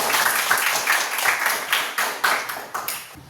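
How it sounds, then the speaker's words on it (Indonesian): A classroom group of students claps together in a fairly loud, somewhat rhythmic burst, individual claps audible within the patter and fading toward the end. "Baik, tepuk tangan dulu."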